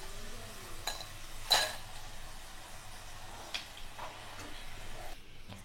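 Crispy fried potato French fries tossed in a bowl, giving a few sharp, dry rustling crunches against a quiet background, with one prominent rattle near the start.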